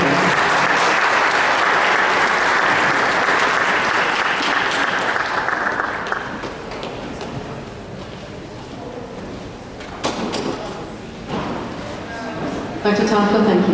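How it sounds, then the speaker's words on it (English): Audience at a school board meeting breaking into loud, dense applause for honored students, sustained for several seconds before thinning out, with scattered claps and a voice speaking near the end. "I want to thank you so much for your wonderful applause and energy"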